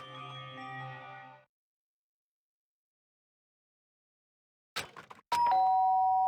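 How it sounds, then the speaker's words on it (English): A doorbell chime rings in the video game Danganronpa, sounding loud and close near the end after a long stretch of silence, with a brief musical tone earlier. "did I hear the doorbell?"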